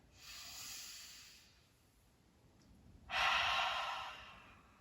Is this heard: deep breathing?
yes